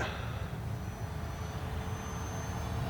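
A radio-controlled model airplane flies overhead, its motor a steady, moderately distant hum and drone above rumbling wind noise outdoors, with no talking.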